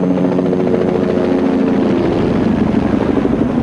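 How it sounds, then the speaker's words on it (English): A Bell JetRanger helicopter fitted with infrared heat-seeking instruments flies steadily overhead, its loud, continuous rotor thrum and turbine whine holding an even level throughout with no voices. "It's a Bell Jet Ranger helicopter, specially equipped with infrared heat-seeking instruments."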